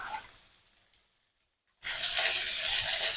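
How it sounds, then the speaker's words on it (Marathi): Ivy gourd (tondli) dropped into hot oil with cumin bursts into a loud, steady sizzle after a quiet pause, the frying hiss holding close and strong to the end. "तोंडली आपल्याला छान परतून घ्यायची आहे"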